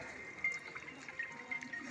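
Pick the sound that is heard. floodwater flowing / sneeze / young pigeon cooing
floodwater flowing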